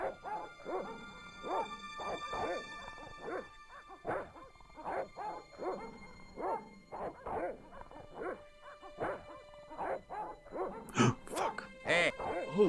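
Dogs barking in the point-and-click adventure game Broken Sword: The Shadow of the Templars, a steady run of sharp, repeated barks and yips close by, alone without speech, with a few louder bursts near the end.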